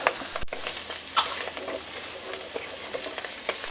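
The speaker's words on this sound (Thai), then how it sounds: "กุ้งฝอยคั่วพริกเกลือ ตอนนี้เราก็เร่งไฟแรงนิดก่อนจะขึ้น" Small shrimp being stir-fried with chili and salt over high heat: a steady close sizzle broken by sharp spatula scrapes and clinks against the pan.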